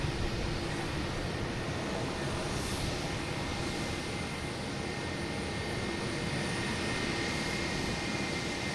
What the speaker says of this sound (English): We have Delta heading to Baltimore, E175, flight 5644.